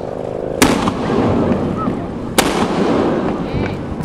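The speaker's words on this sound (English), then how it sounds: "they're about to fire off the cannon" Two sharp booming cannon blasts a couple of seconds apart at Castillo de San Marcos fort in St. Augustine, Florida, over steady outdoor crowd murmur, each cracking loudly and then fading.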